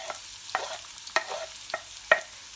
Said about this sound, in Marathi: कांदा आता आपला फ्राय होतोय।